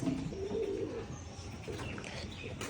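Pigeons kept in a loft with young birds for sale coo in low, throaty murmurs, one clear coo near the start, then softer cooing and faint chirps in the background.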